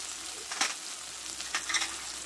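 A masala of ginger, onion, tomato and ground spices fries in a pan with a steady close sizzle, with two brief bursts of stirring and scraping and no talk.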